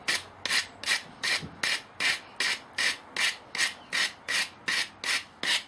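Sandpaper rubbed back and forth on the reload spindle of a toggle drill, flattening it in about a dozen steady, evenly spaced strokes, close and clear with no talk.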